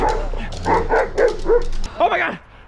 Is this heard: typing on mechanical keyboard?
no